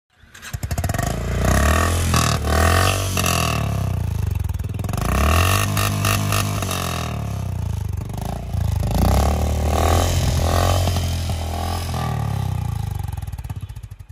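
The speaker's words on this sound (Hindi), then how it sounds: "एक बार इस बाइक का एग्जॉस्ट नोट सुन के देखते हैं" A Honda CB350RS motorcycle engine revs hard in repeated bursts, its exhaust rumbling loud and close between throttle blips, with no talking.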